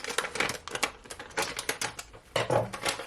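A package of yellow hominy corn cut open for porridge, with a dense run of close crinkling, snipping and rustling plastic.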